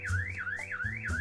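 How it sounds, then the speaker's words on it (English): A burglar alarm in the Klepto burglary simulation game wails in a rising, repeating electronic sweep, cycling about four times per second at moderate, steady volume with no talk. "you hear the alarm though? It's like a little beeping in the back."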